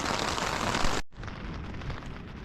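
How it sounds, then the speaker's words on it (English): A loud, dense rumble of a thunderstorm with heavy rain at Kiwa Lake, briefly cutting out and then resuming, steady and close throughout. "got a the thunderstorm rolled in."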